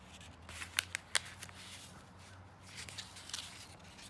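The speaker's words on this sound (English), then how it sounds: "you wanna fold it in half this way" Paper being folded in half for an origami fish, heard close and quiet as a few sharp crisp creases and soft rustles scattered over a faint room background.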